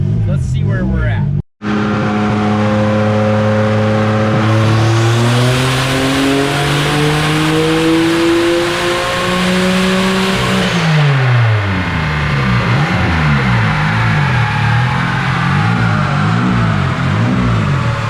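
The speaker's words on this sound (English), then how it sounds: "We got Maynham's V6 car on the dyno, and we need to get a little baseline." A V6 race car on a chassis dyno during a baseline pull, its engine loud and close as it climbs steadily through the revs in a long rising sweep, then drops back and idles with a burbling, uneven note.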